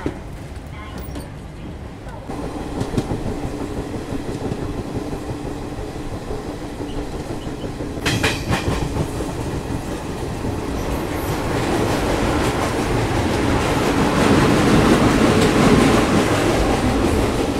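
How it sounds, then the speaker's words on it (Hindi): Garib Rath express train pulling out of Ernakulam Town railway station, a steady rumble and rattle of rail cars building in loudness, with people talking over it. "ट्रेन अपनी चल गई है एर्नाकुलम टाउन रेलवे स्टेशन से"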